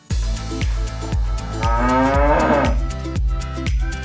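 A cow gives one long, loud, close moo that rises and wavers, over a steady rhythmic thumping beat with no speech.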